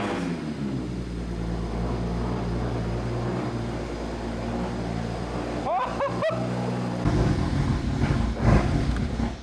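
BMW 335i engine idling roughly with one lambda sensor missing, a steady low drone with uneven surges and a few sharp clunks and squeaks near the end, close and moderately loud.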